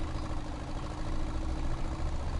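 A tractor engine idles in the farming game Farming Simulator 19, a steady low rumbling drone that holds evenly for a couple of seconds without speech.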